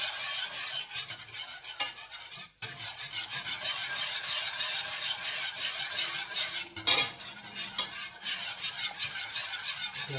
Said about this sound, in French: On va bien mélanger pour avoir une belle sauce épaisse.